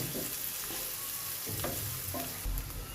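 Chopped onions fry in hot oil for a pigeon curry, a steady close sizzle with brief scraping stirs and no talking.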